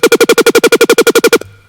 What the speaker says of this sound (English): If I was to bring the unison level down,